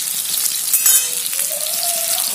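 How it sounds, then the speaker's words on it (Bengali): Potatoes sizzle in hot oil with turmeric and salt, a close, continuous crackling fry with a brief faint whine partway through. "ভাজা হতে হতে আলুগুলো সেদ্ধ হবে"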